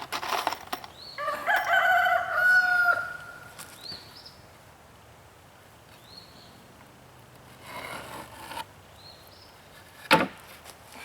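Rooster crowing and chickens clucking around a small mobile chicken house on wheels under construction, one clear crow early on, then scattered soft clucks and short calls against a quiet outdoor background, with a sharp wooden knock near the end.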